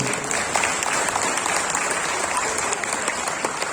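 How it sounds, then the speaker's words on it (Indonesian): Sustained audience applause at an Isra Mi'raj religious gathering for national harmony, steady and dense throughout, a large crowd clapping together at close range with no break. "Tepuk tangan dulu untuk Rangkas Bitung."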